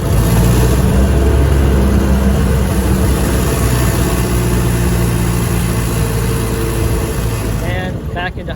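A Model T Ford engine drops into first gear and slows, its low rumbling drone shifting pitch steadily and staying close and fairly loud throughout.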